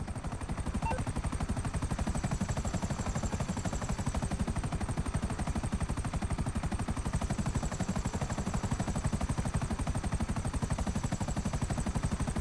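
Buzzard attack helicopter in GTA Online, its rapid rotor chop droning steadily throughout, overlaid with continuous loud bursts of rattling gunfire and a thin high whine, no voices.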